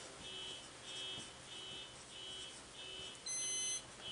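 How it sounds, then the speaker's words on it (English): A car alarm sounds nearby with a steady repeating pattern of short electronic beeps and buzzes in regular pulses, ending in a louder sustained tone, with no talking. "Car alarm has just gone off."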